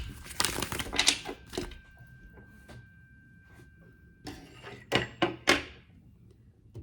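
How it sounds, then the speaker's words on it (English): Crisp flicking and riffling bursts of tarot cards being shuffled, close by, in several quick clusters separated by quieter handling noises. "Let me shuffle a bit."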